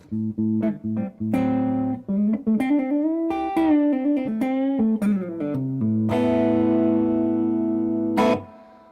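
Electric guitar with humbucker pickups, played through the neck pickup and then both pickups together: a clean, close melodic run of single notes and chords that ends on a long sustained strum before stopping abruptly.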